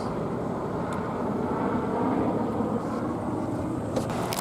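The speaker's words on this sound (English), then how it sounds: "Helicopter hovering overhead as I enter the establishment" Helicopter hovering overhead outside a Best Buy store, a steady low broadband rotor and engine drone that stays loud and constant throughout, with a few faint higher clicks near the end.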